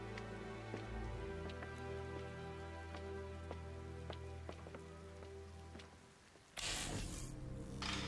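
Rain patters steadily in the video game Ninja Gaiden 4, a soft, even wash of drops under low tonal hum, with a sudden louder burst of noise near the end.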